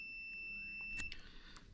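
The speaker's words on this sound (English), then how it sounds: "Put the continuity buzzer on" Multimeter continuity buzzer set up to test a suspect red wire from a power supply, giving a thin steady tone and then a brief sharp click or beep, quiet and up close.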